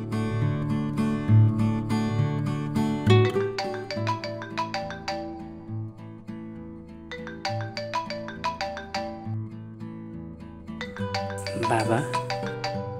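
A mobile phone ringtone plays as a steady melodic tune for the full stretch, loud and continuous, with a brief burst of extra tones near the end.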